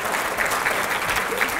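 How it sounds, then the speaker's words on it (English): Audience applause after a public lecture demonstration, dense clapping from a roomful of people, loud and continuous throughout. "Please give a round of applause."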